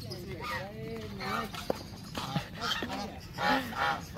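Several honking quacks from ducks sound nearby, repeated in short bursts, with a person talking softly in the background.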